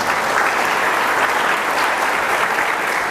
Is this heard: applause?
yes